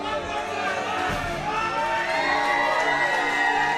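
Crowd at a UCW-ZERO wrestling show cheering as a wrestler heads to the ring, a dense roar of shouting voices and whoops that stays loud and steady throughout.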